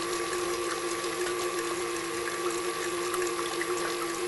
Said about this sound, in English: Start beating those eggs to make it foamy and incorporate air.